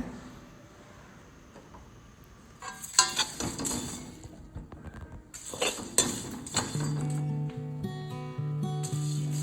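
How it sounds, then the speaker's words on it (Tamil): Chilli masala powder dry-roasting in a kadai over medium heat, with scraping and stirring scrapes and clinks of a spatula against the metal pan, quiet at first and then busier and louder. "கடாயில் வச்சு வறுத்துக்கலாம் மிதமான சூட்டில்"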